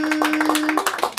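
An open mic audience claps in a short burst of sharp, uneven hand claps, with a sustained tone held underneath the first part.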